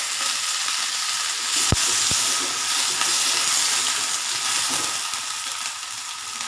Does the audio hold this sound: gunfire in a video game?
no